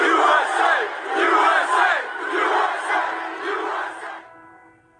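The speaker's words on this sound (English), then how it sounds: "What a crowd." A large crowd gathered in the street to cheer the police roars and shouts in loud rolling waves, a dense sustained wall of voices that cuts off sharply near the end.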